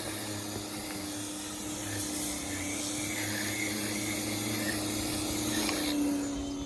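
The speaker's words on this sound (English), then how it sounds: "So before I do the actual roof spray activator coating, I'm going to power wash it" A power washer sprays down an RV roof before it is recoated, a steady loud hissing rush of water that holds without a break, with no voices.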